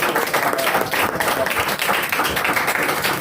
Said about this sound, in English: ladies and gentlemen, give a big round of applause for this.